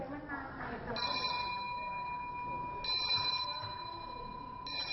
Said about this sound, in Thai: จะมีการแจ้งเตือนด้วยเสียงกริ่ง เมื่อเสียงกริ่งดังขึ้น